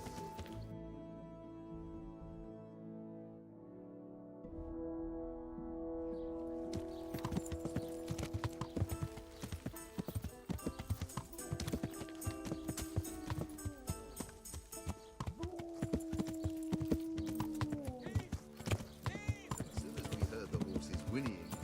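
Horse hooves clip-clop in a steady galloping rhythm within a video game, with a whinny rising over a background music score and occasional voices talking.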